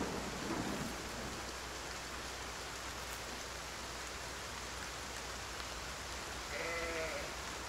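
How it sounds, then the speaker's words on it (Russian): Heavy rain pours in the survival game Force of Nature 2, a dense steady wash of noise throughout, with a short sheep bleat near the end. "Еще и ливень пошел."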